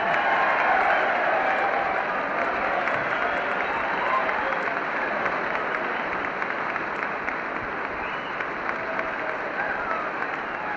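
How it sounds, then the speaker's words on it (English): Steady, sustained applause from a large crowd in the chamber as General Eisenhower reports to Congress, dense clapping that holds at a constant level throughout with a faint commentator's voice under it. "Looks as if they're going to applaud all day."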